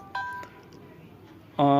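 A phone message notification tone after a bank transfer in a wallet app, a brief bright chime near the end following a short earlier beep, over faint room noise.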